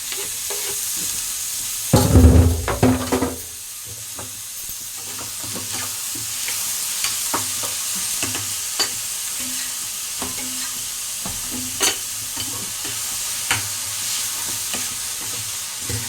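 Onions and tomatoes sautéing in a pan for a tomato thokku, a continuous close sizzle with a loud burst of spatter and stirring near the start, then occasional soft clicks of a spoon against the pan.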